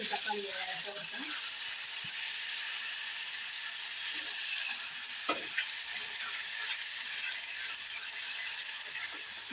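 Two large tomatoes sauté in a pan for tomato rice with a continuous sizzle, broken by occasional clinks and scrapes of a stirring spoon. A voice is heard faintly at times.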